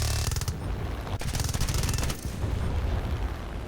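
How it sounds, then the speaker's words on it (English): Minigun on an A-1H Skyraider in War Thunder, a loud continuous rattling burst of rapid fire with a brief gap near the middle before it resumes and runs on steadily. "here comes the stupid machine gun sound"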